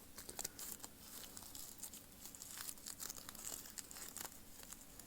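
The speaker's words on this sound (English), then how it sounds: "Oh, it's ripping." Shed snake skin rips as it is handled, heard as faint, close crinkling and papery tearing that carries on in small bursts, with no talking.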